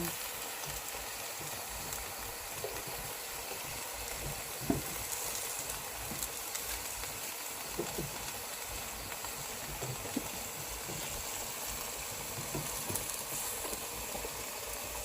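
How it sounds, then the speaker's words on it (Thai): Cabbage is stir-fried with fish sauce for an evening meal in a home kitchen, giving a faint, steady sizzling hiss with occasional soft clicks from the pan throughout. "ตอนนี้คุณป้าท้ายบ้านกำลัง ผัดกระลัำน้ำปลา กับข้าวมื้อเย็น"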